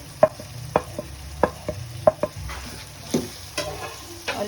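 Mutton brain frying with garlic, ginger and tomato in a pan, a low sizzle punctuated by sharp, evenly spaced spatula clicks and scrapes, close and without talking.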